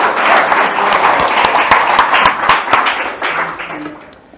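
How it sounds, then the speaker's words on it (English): Audience applause for a guest speaker at a Tech Alley Vegas ChatGPT meetup, a dense, steady roomful of clapping hands that carries loudly throughout and thins slightly toward the end. "Let's give him a round of applause, please."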